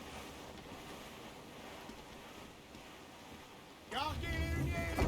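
Wind and sea surf rush steadily around a sailing ship at sea in Assassin's Creed IV Black Flag, a quiet continuous roar before a louder swell joins a man's speech near the end.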